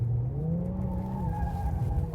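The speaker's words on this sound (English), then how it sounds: "You can get the back end to step out quite easily." An Infiniti Q50 with 400 hp and all-wheel drive slides on a track in Sport Plus mode, its engine droning steadily while tire squeal rises and holds through the slide, with no voices over it.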